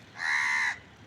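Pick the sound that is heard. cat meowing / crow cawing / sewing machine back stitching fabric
crow cawing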